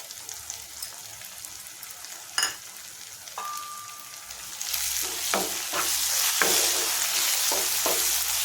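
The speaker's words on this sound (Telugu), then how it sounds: "ఇందులో అల్లం వెల్లుల్లి పేస్ట్ వేసుకుందాం" Ginger garlic paste goes into a pan of fried onions, starting with a soft sizzle and a few clinks, then swelling into loud, crackling frying with stirring scrapes close up.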